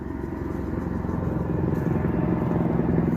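The drum of a wood chipper, shut off after idling, keeps turning as it spins down, giving a low rumbling mechanical drone with a faint steady pulse throughout.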